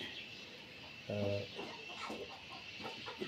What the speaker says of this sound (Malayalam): ഇതാണ് നമ്മുടെ നാട്ടിലെ വയനാട്ടിലെ നാടൻ കോഴി.